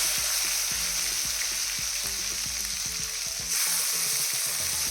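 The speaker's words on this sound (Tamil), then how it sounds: "இடித்து வச்சுக்கிற பூண்டு சேர்த்துக்கலாம்." Crushed garlic hits hot oil with curry leaves in a pan for a fish curry, giving a loud, dense, continuous sizzle with faint clinks underneath, close up and steady throughout.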